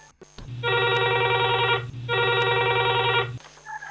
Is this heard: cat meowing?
no